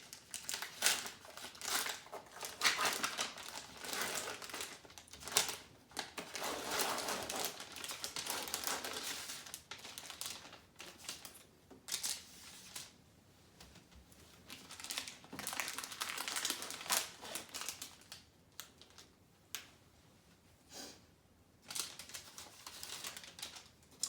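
Plastic and paper wrappers of medical supplies for a nasogastric tube insertion crinkle and rustle as they are torn open, in repeated bursts of close, crisp crackling with short pauses and no speech.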